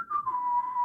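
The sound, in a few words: person whistling, imitating a cartoon character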